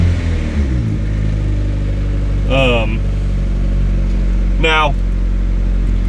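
A car engine idles steadily on a cold start with a low, even rumble, while a person talks briefly over it.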